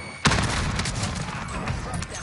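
A shotgun blast in a Call of Duty game, one sharp loud report at the start followed by a continuing rumble of combat noise and scattered shots.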